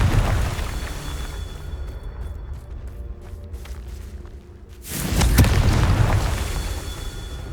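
A Confringo blast spell explosion in the Hogwarts Legacy video game: a loud, booming burst with a rumbling tail, preceded by a lower, fading roar.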